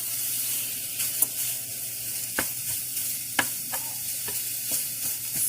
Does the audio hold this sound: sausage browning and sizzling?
yes